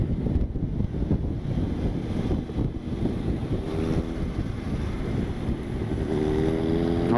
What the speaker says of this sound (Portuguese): Certeza que ele vai querer acelerar na reta aqui agora.